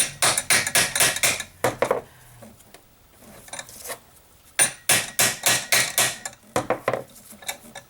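A hammer taps repeatedly on a part of a Jeep Grand Cherokee 3.7 engine, sharp metallic knocks in quick bursts of several strikes, separated by quiet pauses, close and fairly loud with no talking.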